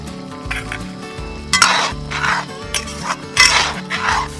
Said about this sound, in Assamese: এতিয়া ঘৰতে পিচি অনা বিলাহীখিনি দি দিছোঁ।